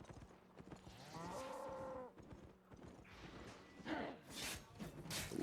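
An ox lowing inside an open-world video game, one drawn-out moo in the middle, with clattering hoof steps and other game noise around it and some louder bursts toward the end.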